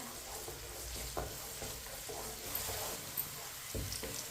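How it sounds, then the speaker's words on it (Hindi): Onions browning in a pan and sizzling steadily while a spoon stirs them, giving a few soft scraping knocks over a constant hiss. "इसे ऐसे ही चम्मच चलाते हुए ब्राउन करना है"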